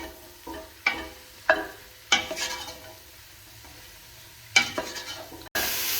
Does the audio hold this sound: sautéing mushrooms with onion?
yes